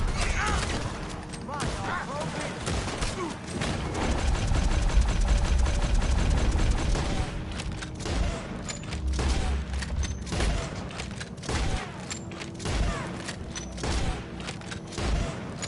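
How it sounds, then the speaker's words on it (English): Repeated gunfire from a repeater rifle in Red Dead Redemption 2, a run of sharp shots and metallic action clicks up close, mixed with game noise and rumbling low booms. "But listen to that gun go."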